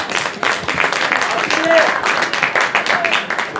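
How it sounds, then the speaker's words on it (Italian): A crowd claps for a boy at an outdoor ball-juggling contest in Borgo-Seravezza Pozzi, a short burst of scattered applause with a voice speaking over it. "Sei palleggi per Achille, un applauso."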